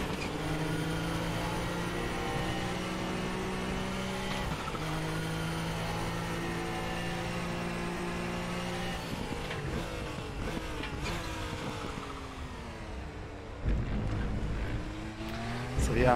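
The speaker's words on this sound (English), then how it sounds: "Maybe I'll drive the Nissan in a minute to show you that car as well." Nissan Group C race car engine in the RaceRoom racing game, a loud steady drone that climbs through gears with sharp shifts, continuous and close throughout, with a brief burst near the end.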